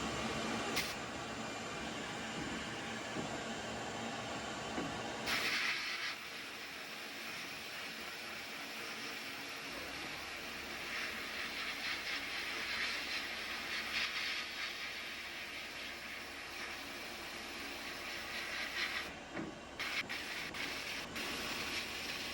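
Harbor Freight blast cabinet fed by an air compressor, blasting rust and powder coating off a transmission brace; a steady loud hiss of abrasive and air, broken by short stops and restarts, with no talking.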